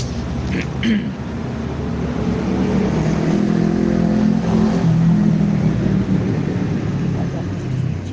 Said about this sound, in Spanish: pasa mucho carro, sí.